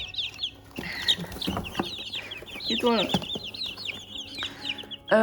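Loud, busy high-pitched cheeping from many chicks, continuous and close, with a person briefly speaking over them.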